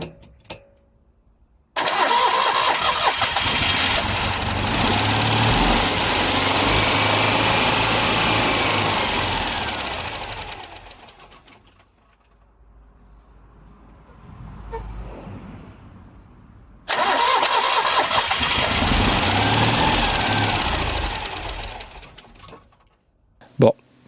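A Citroën Dyane 6 engine cranks and catches, running loud and steady for about ten seconds before a pause; it then restarts and runs again. The engine is close.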